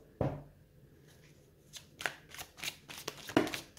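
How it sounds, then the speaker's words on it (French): Tarot cards are handled, drawn and laid down on a surface, giving a sharp slap followed by several quick papery flicks and taps, close and fairly quiet, with no talking. "je pense que je vais venir rajouter une carte"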